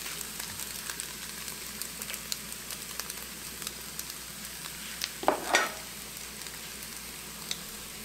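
Oil crackles and sizzles in a pan while shrimp fried rice cooks, a steady fry with scattered pops and a brief scraping stir midway.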